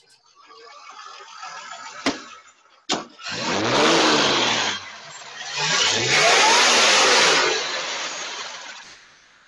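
A supercharged Triumph TR250 with a Toyota 5-speed cranks with two sharp clicks, catches, and roars through two strong revs near and loud, then settles back toward idle.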